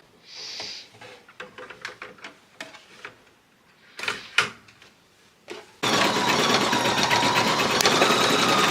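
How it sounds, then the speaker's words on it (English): Husqvarna Viking embroidery machine stitching a design held in a Sewtech 6-by-6-inch metal magnetic hoop, starting with a few handling clicks and then a loud, steady, continuous mechanical whir that runs on alone. "We're gonna put it on the machine and stitch it out."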